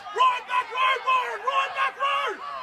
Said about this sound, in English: A very vocal Saturday night crowd here at Appen Sports Ground.